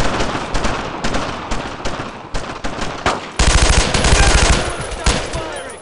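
Loud, sustained machine gun fire in the World War II video game Brothers in Arms, with rapid overlapping bursts and heavier automatic fire joining partway through.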